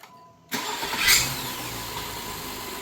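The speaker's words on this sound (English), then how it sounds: "when your engine makes noise like this while starting" An Acura MDX 3.5 V6 cranks and fires up with a squealing serpentine belt tensioner, a high shrill whine rising right after the start and then settling under a steady close idle.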